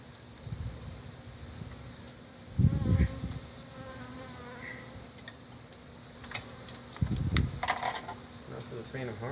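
Bees buzz steadily at night during the removal of a beehive, with a continuous high drone and occasional louder bursts of handling noise and rustling close by.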